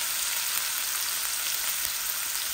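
Onion going into hot oil that already holds dried chili and reddened garlic, frying for a mixed greens dish; a steady, dense sizzle runs close and loud throughout with no voices.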